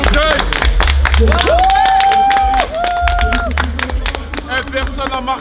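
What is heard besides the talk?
team applauding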